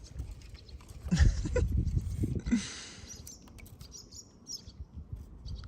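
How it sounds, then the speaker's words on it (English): Young birds chirp in short, high, faint tweets amid rustling through a tangle of branches in the wind, with a louder scuffling burst near the start. "The little ones are out. The birds."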